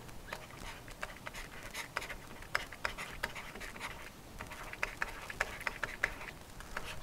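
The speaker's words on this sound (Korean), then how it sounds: "손목이 좋지 않은 발표자의 경우 태블릿을 이용하여 글씨를 쓰는 것이" A stylus writes on a tablet in a steady stream of close, dry scratches and light ticking taps, with no voices.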